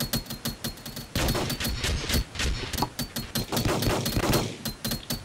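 Rapid video game gunfire cracks out in a steady stream of sharp shots. A lighter stutter of shots opens, then a denser, louder barrage runs unbroken to the end, close and alone with no talking.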